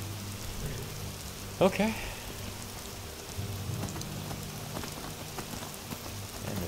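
Steady rain patters in the fantasy game Avowed, a soft continuous hiss close around, with a brief louder burst of voice over it partway through.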